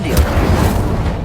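Incendio fire spell cast in Hogwarts Legacy, a short loud whooshing burst of flame with a booming low-end thump, continuous and dense for about a second.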